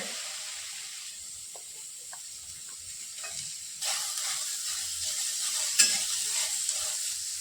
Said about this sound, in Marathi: थोडंसं तेल आपण टाकून हा कांदा भाजून घेतोय.